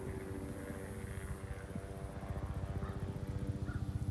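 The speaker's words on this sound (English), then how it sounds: "Mind the plane. It's gonna come right overhead." A propeller plane flies overhead above a prairie restoration site, a steady low droning rumble that swells and begins pulsing toward the end as it passes close.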